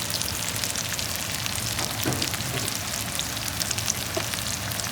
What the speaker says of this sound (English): Now we got all of our potatoes in the pan. They're frying away.